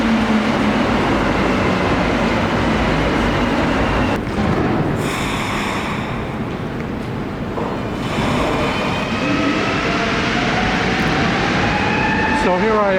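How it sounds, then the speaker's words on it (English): A Montreal Metro train rumbles into Atwater station, a loud continuous roar with rising and falling whines and squeals, people talking beneath the noise. "But the train's coming in, so I'll be there soon."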